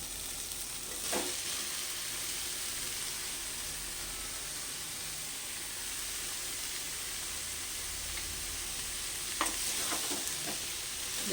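Bottle gourd being stir-fried in hot spiced oil in a pan over a gas flame, a steady loud sizzle and hiss throughout with a few clattering scrapes of stirring, close by and without talk.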